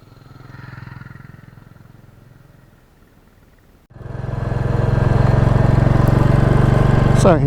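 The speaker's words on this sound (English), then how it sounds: "doing the typical second gear chug on a bad road surface, but this time on the Classic 350" Royal Enfield Classic 350 motorcycle (2022) chugging in second gear over a bad road surface, a quiet engine note at first that swells into a loud, steady, close-up rumble with wind noise for the second half.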